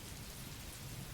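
Steady, dense rainfall pours down in a constant full hiss with a low rumbling undertone, unbroken and without any voices.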